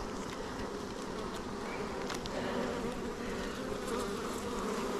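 Dense buzzing of many honeybees swarming close around an open beehive during an inspection, a steady continuous drone with no voices.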